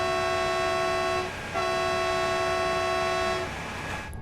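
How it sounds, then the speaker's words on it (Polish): Double horn of a DB BR 147 locomotive in Train Sim World 6: two sustained, loud tonal blasts separated by a brief gap, then a fading tail, with no voices. "W niektórych lokomotywach w Train Sim World są podwójne syreny."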